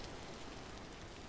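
Steady rain falls in the video game Vintage Story, a faint, even hiss of drops on surfaces with no other sounds or talk.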